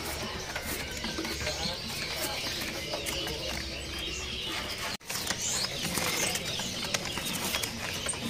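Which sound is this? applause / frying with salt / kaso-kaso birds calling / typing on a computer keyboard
kaso-kaso birds calling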